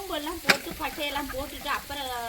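Onions sauté in a pot for biryani with a soft sizzle and stirring, heard close. A scrape or clink sounds partway through. Faint voices come through under the cooking.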